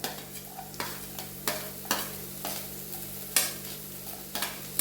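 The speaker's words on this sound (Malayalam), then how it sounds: "ഇതും നല്ലപോലെ ഇളക്കി കൂട്ടി നന്നായിട്ട് വാടിയതിന് ശേഷം" Chopped onion, garlic, ginger and green chilli fry in a pan while a spoon stirs them, a soft sizzle punctuated by regular scraping strokes roughly every half second, close and fairly quiet.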